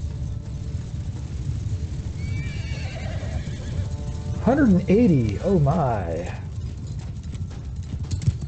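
Cavalry horses in the video game Bannerlord thunder along with rumbling clip-clop hooves, and a couple of loud whinnies rise in the middle while someone shouts excitedly over the action.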